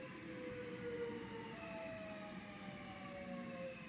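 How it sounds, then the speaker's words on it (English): A British Rail Class 465 electric train braking, with a sustained, slowly falling tonal squeal over a dense low rumble of running gear, steady and alone without speech. "I don't think many Class 465s had this braking. This isn't a sound I'm familiar with when I travel on these trains."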